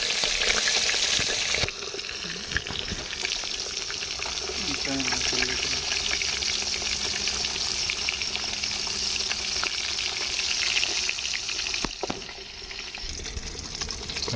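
Fish frying in a pan of clean wood-pressed oil, with a loud, dense, continuous sizzle. A voice talks over the frying for much of the time.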